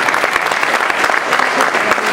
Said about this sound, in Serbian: Jedan aplauz za njih